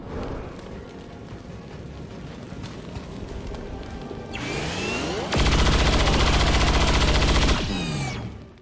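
Gunfire in the video game XCOM 2: War of the Chosen: after a few seconds of quiet game ambience, a loud, dense burst of heavy weapon fire erupts and holds for about three seconds, then tails off with a swept whine.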